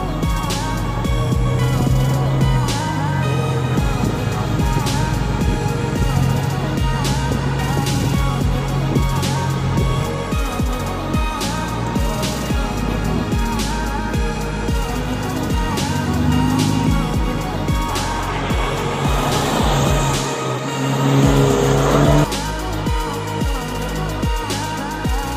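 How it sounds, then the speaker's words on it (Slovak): Renault Megane RS Trophy hot hatch heard from inside while driving, a steady loud engine and road drone that shifts pitch as it accelerates and changes gear throughout. "Presúvame sa konečne k jazde s Renaultom Megane RS Trophy."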